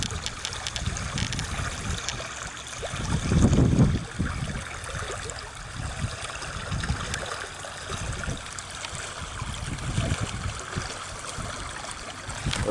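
Water trickling and splashing as someone wades into a stream while rockhounding, a steady near babble with a louder splash burst early on, no talking.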